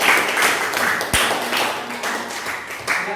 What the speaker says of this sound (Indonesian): sekali lagi kita kasih aplaus buat kita semua